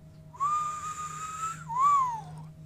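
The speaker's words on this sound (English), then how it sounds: "let go a slow whistle" A slow whistle of two drawn-out tones, the first long and level, the second rising then falling, carried alone over a faint steady background hum.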